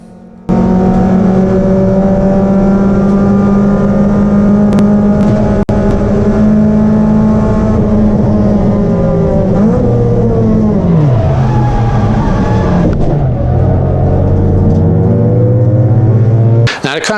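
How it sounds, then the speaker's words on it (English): A race car accelerates hard into turn 1 during a track race, its loud engine note holding high and steady, then sagging and wavering near the end, heard close and continuous throughout. "I'm just accelerating as hard as I possibly can, and this is my first ever race, first ever turn 1"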